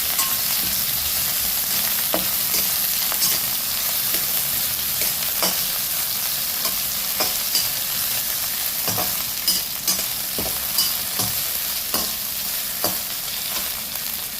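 Colocasia is stirred in a cooking pot for Kerala aviyal, giving a continuous close sizzle with scattered soft scrapes and clinks of the spoon and no voices.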